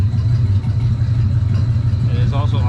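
A 1938 Dodge engine, being revived after more than 40 years, idles with a steady low rumble close by, a faint voice creeping in near the end.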